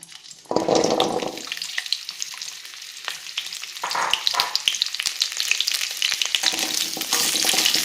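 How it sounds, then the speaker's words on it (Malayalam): Gooseberries sauté in hot sesame oil for a pickle, giving a loud, close sizzle that flares as they are stirred, with scraping and bubbling carrying on steadily throughout. "എണ്ണ ചൂടായി വരുമ്പോൾ കഴുകി വൃത്തിയാക്കി വെച്ചിരിക്കുന്ന നെല്ലിക്ക അതിനകത്തിട്ട് നന്നായിട്ട് വഴറ്റിയെടുക്കാം."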